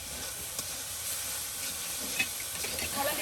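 Mixed leafy greens fry in a pan at an outdoor village cooking spot on a rainy day, a soft continuous sizzle and hiss with faint stirring clicks, quiet and steady.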